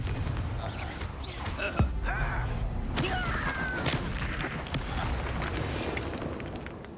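Fiery Confringo spell blasts crack and boom during a Hogwarts Legacy wizard battle, sharp bursts standing out over a constant rumbling din of combat effects.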